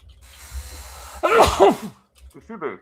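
A single loud sneeze bursts out close to the microphone during an online discussion panel, with a brief voiced rise, after quiet room noise, followed by faint short speech sounds.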